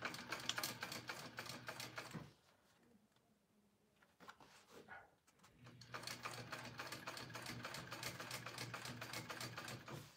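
A sewing machine stitches the seam of a tote bag in close, rapid bursts. It stops briefly midway with a few handling sounds, then resumes with steady stitching.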